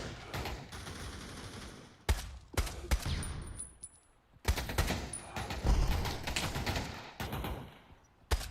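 Gunfire in the VR shooter game Pavlov comes in loud, rapid bursts and single sharp shots separated by short pauses, close and dominant, with no talk.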